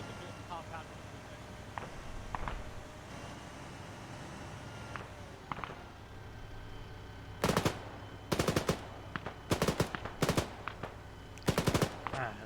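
Automatic gunfire in Arma 3 comes in several sharp, loud bursts in the second half, following quieter scattered distant shots over a steady background hum, with players talking over radio.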